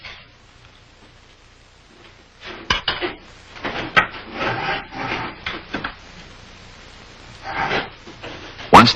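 A hand drill bores a ramrod hole into a wooden gun stock at a gunsmith's shop in Williamsburg, giving rough, grinding wood-scraping strokes in irregular bursts, loud and close after a quiet start.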